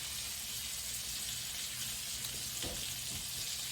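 Flounder fillets searing in a hot pan, giving a steady, close hiss of sizzling oil with a few soft clinks partway through.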